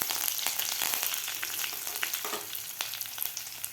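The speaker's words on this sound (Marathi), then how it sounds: "लसूणसुद्धा आपल्याला व्यवस्थित फ्राय करून घ्यायचं आहे" Crushed garlic and curry leaves fry in hot oil for a methi bhaji, giving a steady, close, dense sizzle with small crackling pops throughout and no talking.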